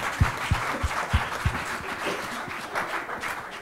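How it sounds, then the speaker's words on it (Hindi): Audience at the TRF 2021 humour event clapping for the moderator, a few loud separate claps at first, then softer scattered applause continuing under room noise. "ताली हो जाए सर के लिए"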